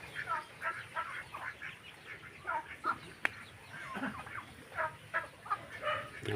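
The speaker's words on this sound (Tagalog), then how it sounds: "Peking duck po yan." Peking ducks on a small backyard farm give repeated short quacks and calls, fairly close and moderately faint, over a light ambient background.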